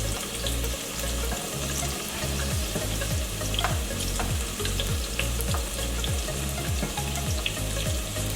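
Garlic and pepper fry in a pan for a saltfish and butterbean dish, giving a loud, steady sizzle. A rhythmic low clatter of stirring repeats through it, with no voices.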